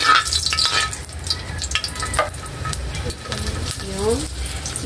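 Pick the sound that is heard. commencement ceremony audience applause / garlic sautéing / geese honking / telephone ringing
garlic sautéing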